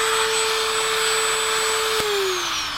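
A Dremel rotary tool smooths a cut edge on a furnace port of a 1974 Silver Streak travel trailer, a steady high-pitched whine that droops slightly in pitch under load near the end, close and continuous.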